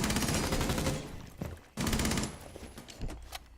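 P90 submachine gun fire in a video game, sustained rapid bursts broken by brief pauses, followed by a few scattered quieter shots and clatter, heard fairly faintly in the mix.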